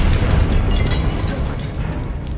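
A Confringo fire spell explodes in Hogwarts Legacy, a loud low booming blast that rumbles on steadily for a couple of seconds with no one talking.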